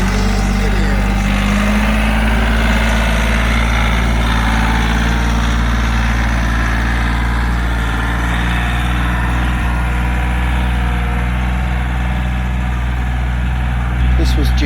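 A Kioti CK4010 tractor's engine running steadily at a low idle, a loud, deep continuous drone held throughout, with a person talking over it.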